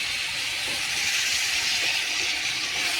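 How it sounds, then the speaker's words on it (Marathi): Mutton sautés in hot oil with turmeric and salt, producing a loud, continuous close-up hiss of frying that holds even and unbroken throughout, with no talking. "छान तेलात आणि हळदी मिठामध्ये चांगलं परतून घेऊया."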